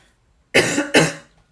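Two sharp, close coughs in quick succession after a brief silence.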